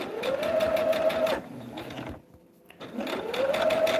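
A sewing machine stitches a table runner a quarter inch from the edge, its rapid needle clatter running in loud bursts with a brief pause in the middle before starting up again.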